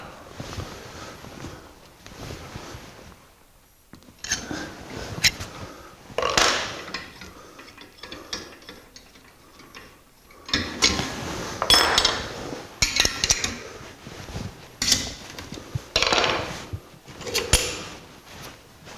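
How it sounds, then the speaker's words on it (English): A flaring tool forms a double flare on a steel brake line for a 1949 Chevrolet gasser, giving intermittent metallic clicks, scrapes and clinks in separated bursts with quiet gaps between, close and fairly loud. "put the yoke back into position, and finish our double flare"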